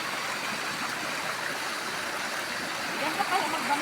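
A small creek runs steadily near a pig pen, its water gurgling and rushing in a continuous broadband wash, close and fairly loud throughout, with a faint voice or two murmuring underneath.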